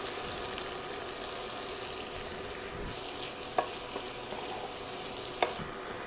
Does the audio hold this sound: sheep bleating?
no